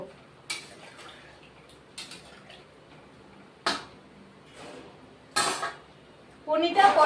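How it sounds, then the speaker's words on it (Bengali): A lid goes onto a cooking pot of aloo paneer posto with a few sharp metallic clinks and knocks spread over several seconds, followed by a louder clatter at the end. "এখন ঢেকে দিব"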